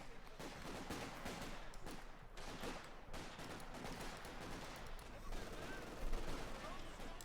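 Artillery and gunfire in the strategy game Company of Heroes 2 boom and crackle in dense, continuous bursts, a heavier blast near the end, with a commentator talking over the battle.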